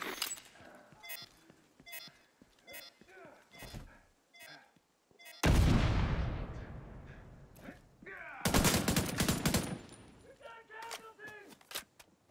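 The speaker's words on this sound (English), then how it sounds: "All right, now get clear before it detonates." Two heavy explosions detonate in the shooter game The Division 2, each a loud broadband blast that fades out, with sharp bursts of gunfire and clattering effects scattered between them.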